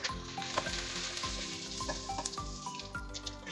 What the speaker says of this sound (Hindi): अच्छे से हल्का सा फ्राई करेंगे वेजिस को